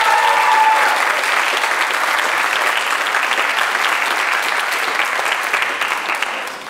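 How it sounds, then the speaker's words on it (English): An audience claps for performers at a high school speech and debate showcase, a loud, dense round of applause that holds steady for several seconds before starting to taper off, with no voices over it. "so let's give them another round of applause"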